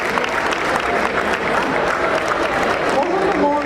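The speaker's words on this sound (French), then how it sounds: "Sous vos applaudissements, s'il vous plaît." An audience at a USAID entrepreneurship and investment event applauds loudly as a speaker is introduced, dense clapping with crowd murmur and faint voices mixed in underneath.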